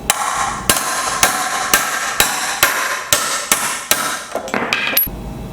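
A wheelchair bearing tapped into place with a socket and hammer, giving a steady series of about eight sharp metallic knocks at regular intervals, close and loud, with a brief faint whine at the end.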